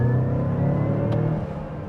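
A 2025 Mazda CX-5 Turbo Premium SUV pulls hard on a test drive, its engine droning up through the revs in a loud, steady interior rumble that eases slightly at the end.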